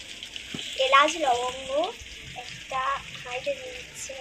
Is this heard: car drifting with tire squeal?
no